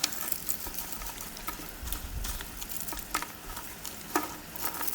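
Banana flower bajji frying in hot oil gives a steady close sizzle, with scattered stirring taps and scrapes of a utensil in the pan and no talking.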